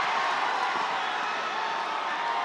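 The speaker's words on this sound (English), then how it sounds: "For once we're hearing the crowd." Broad, steady roar of a crowd cheering at a 2018 schoolboy rugby match between Trinity College East and St Benedict's College, loud and continuous without distinct voices.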